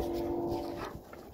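A Malamute/Shepherd mix playing rough with other dogs, with a short growling, whimpering vocal over scuffling, close and moderately loud, fading into quieter movement by the end.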